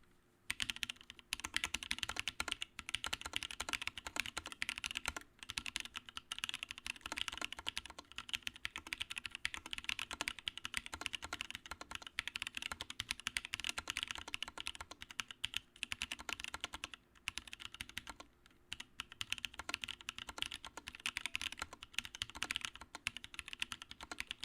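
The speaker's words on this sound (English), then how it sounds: "I'm going to do a quick typing test. This is pretty close. It's going to sound pretty thocky." Continuous fast typing on a Wolfmark W.M.1 mechanical keyboard, mic placed close, giving a dense, deep thocky clatter of keystrokes with steady rhythm and occasional brief pauses, no talking.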